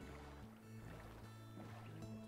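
A boat is rowed across water in the Minecraft game, with soft repeated splashing paddle strokes under a low, steady drone, quiet and continuous.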